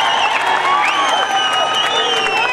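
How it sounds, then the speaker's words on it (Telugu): A crowd at a Telangana Congress Jana Jatara rally in Nizamabad applauds, cheers and whistles loudly and continuously in a short, dense burst. "మీరందరూ చప్పట్లో స్వాగతం పలకాల్సిన కోరుతా ఉన్నా"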